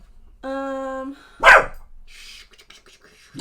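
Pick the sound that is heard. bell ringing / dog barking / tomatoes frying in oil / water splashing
dog barking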